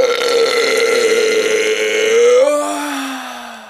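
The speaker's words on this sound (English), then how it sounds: "Mix it up, churn it all up, and there we have" A long, loud belch after drinking Coca-Cola, a sustained rumbling burp lasting several seconds that shifts pitch near its end, heard alone.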